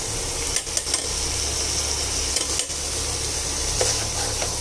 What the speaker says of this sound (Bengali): এবার আর একটু কষিয়ে নিচ্ছি